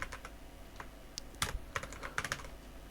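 Code being typed on a computer keyboard, a close run of quick uneven key clicks, sparse at first and then denser, with no talk over it.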